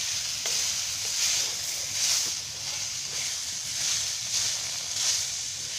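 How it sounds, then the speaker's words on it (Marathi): Grated coconut and tomato dry roasting in a pan on a high gas flame for a stuffed brinjal curry, a steady close sizzle and hiss with periodic scraping swells as the mixture is stirred. "ही टोमॅटो पण भाजून घेणार आहे मी"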